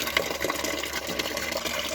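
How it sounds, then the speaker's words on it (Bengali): Water gushes steadily from a tap into a bucket on a rooftop, a continuous near, moderately loud splashing fill with no pauses. "আমি হচ্ছে বালতিতে এখন পানি ভরতেছি"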